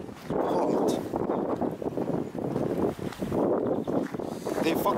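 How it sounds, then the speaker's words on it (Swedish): Strong storm wind buffets the microphone outdoors on a snowy day, a loud roaring rush in long gusts that rise and briefly drop, with a voice partly audible beneath. "Fan alltså, det blåser åt helvete."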